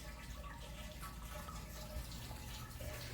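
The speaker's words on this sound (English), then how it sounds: "It does have a water feature in the front of the home." Steady running water from a front-yard water feature trickles and splashes continuously, a constant liquid wash with no voices.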